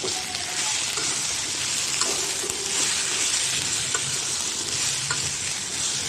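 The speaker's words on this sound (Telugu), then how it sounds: "తర్వాత మూత పెట్టి ఒక 2 minutes కానీ 3 minutes కానీ వేయించుకోవాలి." Chopped okra (ladies finger) frying in a pan for a curry, a loud continuous sizzle with occasional stirring scrapes, no voices.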